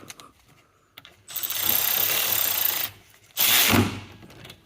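Ratchet or impact driver tightening the rear caliper bracket bolts on a Toyota Prius, two bursts of rapid mechanical whirring, the first longer, with quiet pauses around them.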